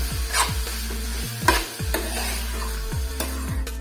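Grated carrot sizzles in a hot pan while a spoon stirs and scrapes it in repeated strokes about every half second, close and clear over continuous frying hiss, with no talking.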